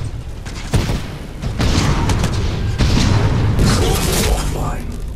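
Weapon fire in the shooter game Titanfall 2, with dense bursts of gunshots and booming impacts over a continuous loud battle mix, close and heavy throughout.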